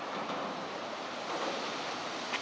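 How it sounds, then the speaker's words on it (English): Pacific Ocean surf rolling in beneath the Golden Gate Bridge in San Francisco, a steady broadband wash of waves with some wind across the microphone, continuous and fairly close, with no voices. "Pacific Ocean."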